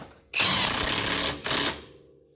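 On a Honda CR-V, a power tool tightens the bottom shock bolt with two loud, close whirring bursts, a long one and then a shorter one, separated by a brief gap.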